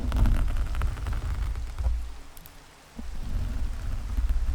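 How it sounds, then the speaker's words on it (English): Steady rain in the Minecraft video game patters down, with a brief lull in the middle before the rainfall picks back up. "You got the sound of the rain"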